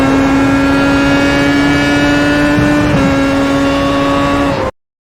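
Williams race car in iRacing at Watkins Glen, a steady, loud engine drone holding high revs with a brief shift or blip near the middle, continuous and alone before cutting off abruptly.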